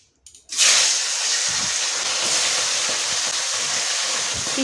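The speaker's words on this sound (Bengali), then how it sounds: "মাছগুলো ভেজে নেব" Pieces of pona fish hit hot oil after a brief moment of quiet, setting off a sudden loud sizzle. The hiss then holds steady and close until the end.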